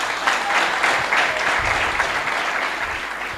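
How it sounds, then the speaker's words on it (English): Audience applause at a university welcome ceremony for faculty during a U.S. ambassador's visit, a dense, steady wash of many hands clapping at close range that holds for the whole stretch. "A hand clap to that."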